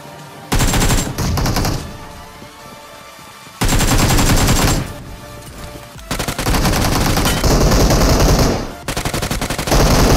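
Bursts of automatic gunfire from a PUBG Mobile match, loud and close, in rapid rattling volleys separated by short pauses, with no talking.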